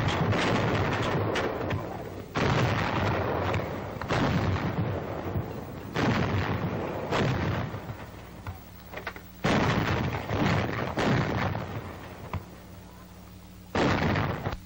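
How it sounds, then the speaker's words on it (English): Heavy coast artillery guns fire in a run of booming, evenly spaced blasts roughly every two to three seconds, each loud report followed by a rumbling decay, with no voices over them. "Firing continues for a period of several days."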